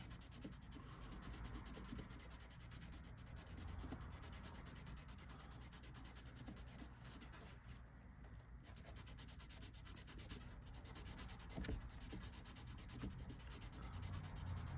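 Fine sandpaper rubbing along guitar frets, working both sides and the crown, gives a steady close scratchy hiss that runs continuously without pause, with no talk.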